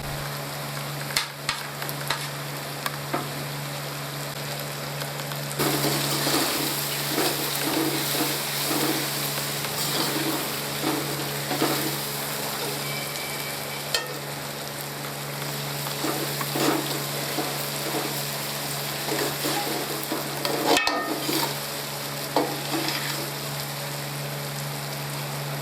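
Spices and dry coriander frying in oil for a tinda (round gourd) curry produce a loud, continuous sizzle that lasts the whole stretch, with scattered crackles and light stirring scrapes.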